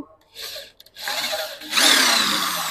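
A handheld ACI Smart electric drill backs out a screw, with short bursts of motor whir followed by a louder, sustained high-pitched spin near the end, close and clear.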